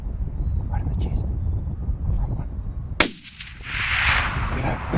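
A single sharp rifle shot cracks out while stalking red deer in New Zealand, a loud sudden blast that stands alone, followed by a brief hush and then a rushing wash of wind and rustle.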